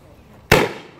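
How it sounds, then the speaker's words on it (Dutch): A single sharp firework burst at a benefit event, one sudden loud crack after a quiet moment that fades away over about half a second. "Geniet van het vuurwerk."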